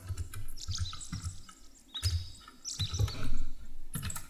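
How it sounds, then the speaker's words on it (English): Small cute bird chirps synthesized in FL Studio by drawing a simple waveform, giving a cluster of bright, quick tweets in bursts over a low rumbling bed, like a lively forest. "this sound, which is basically just a little cute bird sound"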